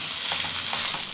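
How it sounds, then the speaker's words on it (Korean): Steady, dense sizzling of Korean cabbage pancake batter frying in a hot oiled pan, close and continuous with soft crackles. "지글지글 배추전 익는 소리가"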